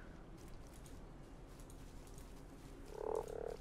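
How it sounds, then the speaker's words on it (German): A frog croaks in the Meadow video game, a short burst of two or three low, throaty croaks near the end, rising over a steady ambient background hiss. "Das ist noch ein Frosch."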